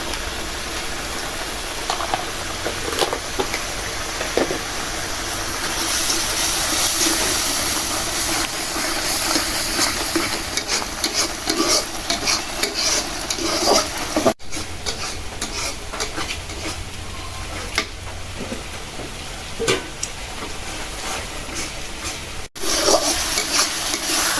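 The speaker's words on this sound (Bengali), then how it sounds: "মশলাটা কষাই নিছি" Ground turmeric, chili, coriander and cumin fry in a pan for a village-style Bengali dish, with a continuous close sizzle and repeated scraping strokes of a spoon stirring the spice paste.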